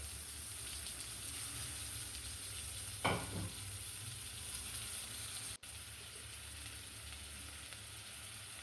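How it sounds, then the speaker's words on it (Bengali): Onions with ginger-garlic paste fry in a pan, a steady loud sizzle running throughout with a brief scrape of stirring near the middle; no talking. "এখন নেড়ে চেড়ে পেঁয়াজটাকে ভেজে নেব, যাতে পেঁয়াজের কাঁচা ভাবটা চলে যায়।"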